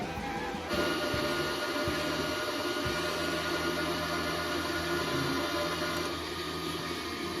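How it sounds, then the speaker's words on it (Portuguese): A Smarter 225II MIG/MMA multiprocess inverter welding machine hums steadily as it feeds wire through to the torch, a continuous mechanical drone with faint rhythmic motor tones. "Acabei de ligar a máquina. Vou aumentar aqui para desenrolar o arame."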